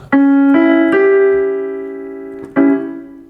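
The three notes of a diminished triad are played one after another on piano an octave lower, ringing together, then the chord is struck again as a whole.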